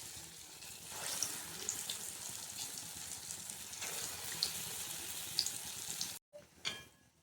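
Bara lentil fritters fry in hot oil, giving a steady close sizzle and crackle that runs throughout before a brief drop and a fresh burst at the end.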